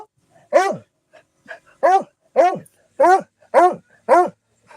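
A dog barking loudly in a steady series of about seven sharp barks, evenly spaced roughly half a second apart, close to the listener, with no talking in between.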